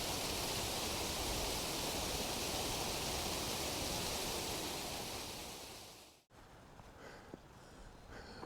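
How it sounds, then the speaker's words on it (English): A small mountain waterfall in Rocky Mountain National Park rushes with a steady, broad white-noise roar up close, then the sound drops away abruptly near the end, leaving quieter open-air ambience with faint movement. "And this is a cool little waterfall."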